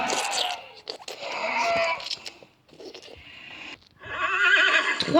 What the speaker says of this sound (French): Trois chevaux.